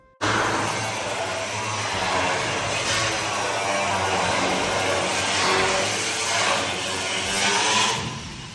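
Tractor leveling dirt in a backyard, a steady, loud engine drone that holds throughout with slight swells in intensity.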